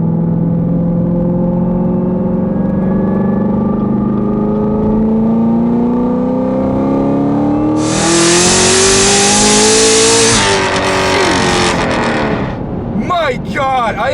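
A 1000-wheel-horsepower 2017 Camaro ZL1 accelerates hard, its engine note rising steadily in pitch through the gears for several seconds, loud and close, with a sharp roaring surge near the end and a voice briefly audible.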